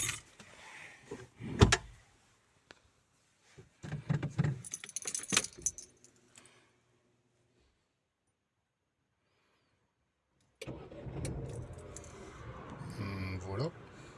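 Keys jangle and click close by in a Dacia Duster, followed by a few seconds of near silence, then the engine cranks and catches into a rough, steady idle.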